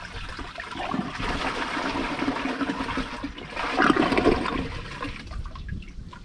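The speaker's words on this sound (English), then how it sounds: "it just hard clogs while it's flushing" A 2006 Mansfield Alto toilet flushing during a clog test, a loud close rush and gurgle of water swirling steadily for several seconds with a surge near the end.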